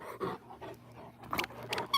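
A dog wanting to play fetch lets out soft whimpering and short growly vocal sounds in brief bursts, fairly close but not loud, with no talk over them.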